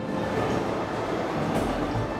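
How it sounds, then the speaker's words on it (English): A locomotive train runs steadily in a Syberia II cutscene, a dense continuous rumble and rail clatter that fills the whole stretch at an even level, with no talk. "So Kate decided to hop on, hoping the train and its wheelman could take her to their maker, Hans Vorarlberg."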